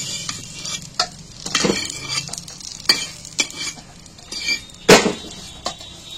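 Fried slices of fish roe are lifted from a frying pan, with repeated sharp clinks and scrapes of a utensil against the pan over a low, steady sizzle of oil.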